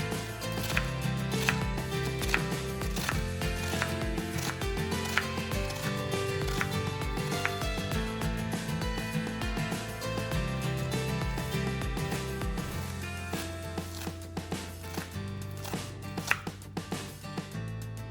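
Ten to twelve ajwain leaves are chopped fine and thin with a knife, quick sharp repeated taps on a board throughout, heard over steady background music.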